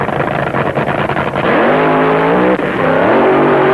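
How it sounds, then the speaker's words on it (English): A 1974 funny car drag racer roars down the strip, its engine blaring loud and close, with the pitch climbing through rapid shifts as it accelerates, the revving continuing strongly throughout with no speech. "that will send Mike Miller in the Green Elephant to the starting line all alone"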